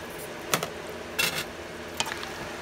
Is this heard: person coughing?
no